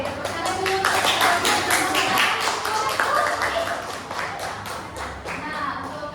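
A classroom group of students claps together in a brief burst of applause, a dense run of sharp hand claps that tapers off over a few seconds.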